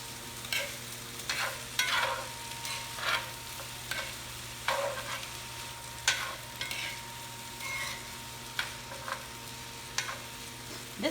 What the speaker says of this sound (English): At this point, you just let them sweat and saute.